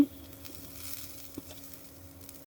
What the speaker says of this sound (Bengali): মরিচটা আর একটু ভেজে নেব